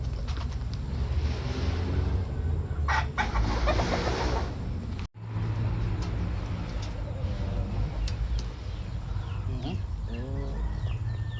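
Chickens cluck and murmur close by over a steady background hum, with one brief cutout partway through.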